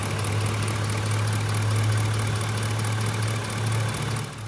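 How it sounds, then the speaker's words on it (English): GMC Yukon V8 engine idling rough with a dead misfire on cylinder 8, a steady low droning rumble with a continuous low hum, heard close and alone for several seconds. "You might be able to hear it. We had a dead miss on cylinder 8."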